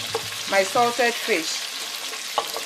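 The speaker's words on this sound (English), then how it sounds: "I'm going to add my salted dry fish," Salted dry fish frying with onion in hot palm oil for a bean stew, giving a close, steady sizzle with a few brief tonal squeals and clinks over about three seconds.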